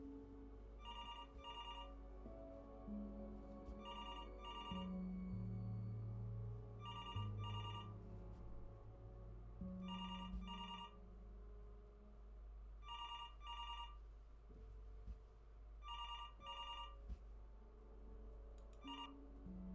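An old-style telephone bell rings in repeated double bursts with short pauses between them, set against a low, droning ambient music bed in the video game Before Your Eyes.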